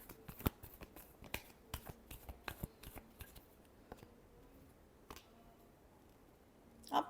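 Tarot cards being shuffled by hand, a quiet run of crisp snaps and soft riffling taps in an irregular rhythm, with a final rustling flurry at the end and no talking.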